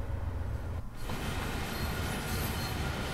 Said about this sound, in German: Die Wagen schlängeln sich da durch den Bahnhof.